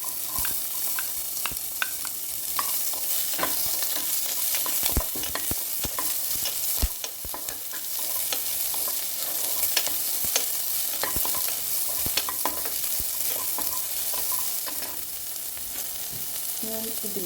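Chopped onions with green chillies and curry leaves fry in a hot pan while being stirred, giving a steady close sizzle broken by frequent sharp scraping and clinking strokes of a spoon for about seventeen seconds.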